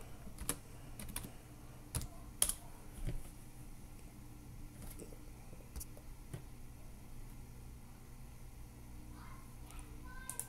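Keys clack on a computer keyboard in short irregular bursts near the start, then fade under a steady low hum of room noise, with scattered faint clicks later.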